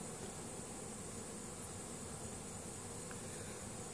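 A steady, even hum of many bees swarming fills the air, constant and unbroken with no voices.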